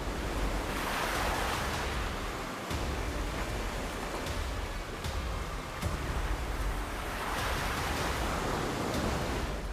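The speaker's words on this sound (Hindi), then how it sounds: "लहरें कितने ऊपर आ रही हैं और कितने नीचे जा रही हैं" Sea waves near Dwarka rise and fall in a continuous loud roar of surf and rushing water, swelling and easing across the whole stretch, with wind buffeting the microphone.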